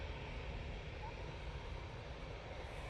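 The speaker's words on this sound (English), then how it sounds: "Emirates has started his taxi." An Emirates airliner taxis at Manchester Airport, its jet engines giving a steady, distant broadband roar that holds evenly throughout with no other sounds standing out.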